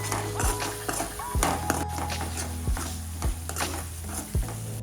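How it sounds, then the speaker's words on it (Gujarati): A spoon stirs and scrapes masala in a pan for pav bhaji, with repeated rhythmic scrapes over a steady sizzle, close and alone without talking. "મસાલા સાથે મિક્સ કરી લેશું."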